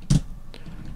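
Fingers tap a computer keyboard while entering Unity C# game code, producing three separate crisp keystrokes close to the microphone, with short pauses between them.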